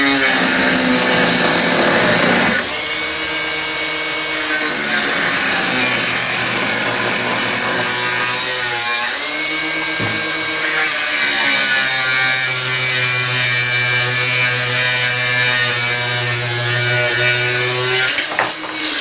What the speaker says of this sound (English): If I get my What grinder Yes. and cut that shaft off